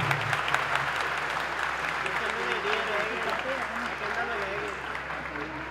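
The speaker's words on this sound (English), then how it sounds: "please put a big round of applause for all our winners" Sustained audience applause for award winners at a university Independence Day flag hoisting ceremony, a dense, steady clapping that fills the whole clip, with a voice speaking over it.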